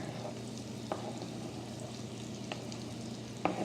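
Chopped white onion tumbling into a hot cast iron Dutch oven at a campfire, giving a soft steady frying sizzle with a few brief clacks as pieces land, fairly quiet and with no talking.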